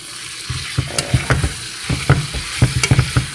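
Vegetables being stirred through simmering gravy for a meatless vegetarian meal, with a spoon scraping and clacking in a steady run of close, uneven strokes over a soft bubbling sizzle.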